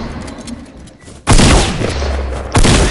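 Rapid bursts of gunfire from a PS4 shooter game, with a quieter stretch followed by a sudden loud sustained volley around the middle and another burst near the end.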